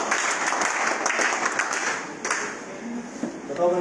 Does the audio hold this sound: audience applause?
yes